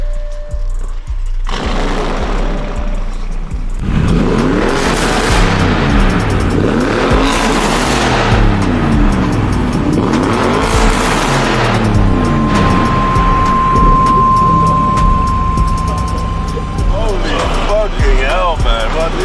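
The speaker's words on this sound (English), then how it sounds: "So guys, it is a Capristo exhaust" A car fitted with a Capristo aftermarket exhaust revs hard several times in loud, close bursts that rise and fall, followed by a lighter engine note and some faint background chatter.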